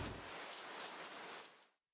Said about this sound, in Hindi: ठंडी हवाएं और गरज चमक के साथ बरसते बादलों का राज आज भी इस्लामाबाद में जारी है